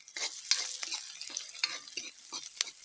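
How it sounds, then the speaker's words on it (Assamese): Onions fry in a pan with a crackling sizzle, broken up by repeated scraping stir strokes that come in bursts every half second or so, close and moderately loud. "এয়া পিঁয়াজ ভাজি আছোঁ"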